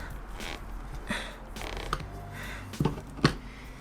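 A plywood floor panel is pried up inside a VW Crafter van, giving a few close wooden creaks and sharp cracking snaps, with the loudest near the end over a low background rumble.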